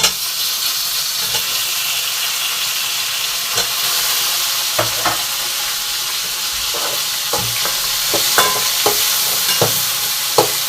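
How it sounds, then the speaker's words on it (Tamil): Steady sizzling of tomatoes in a pan for kuzhambu, with occasional scraping clicks of a spoon stirring and mashing them, close by, no voices. "இந்த தக்காளி நல்லா மசிகிற அளவுக்கு நம்ம நல்லா கிண்டி விட்டுக்கிறது"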